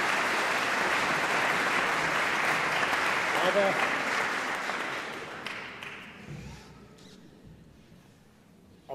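Audience applause at a Christmas and Epiphany carol concert in Gilching, dense clapping that fades out over the last few seconds, with a brief spoken word near the end.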